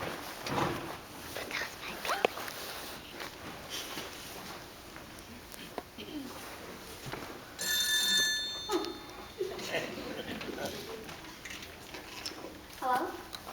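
An old-style telephone ringing indoors, with a bright multi-tone ring burst around the middle of the clip over steady background noise and some muffled voices and movement.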